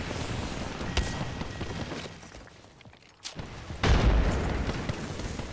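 Bombs explode in the video game Ballistic: several loud booms with heavy rumbling tails, one early, then a short quiet gap followed by two close-together blasts.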